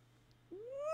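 A cat gives one close, clear meow that starts after a brief quiet pause and climbs upward in pitch, growing louder to the end.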